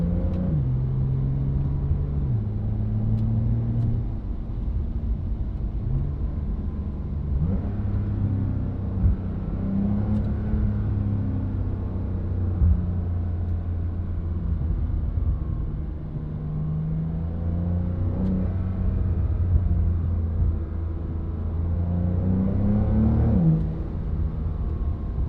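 Inside the cabin of a Brabus-tuned 820 hp Porsche 911 Turbo S, a deep engine drone rises and falls with shifting revs and gear changes, steady and close, with no talking.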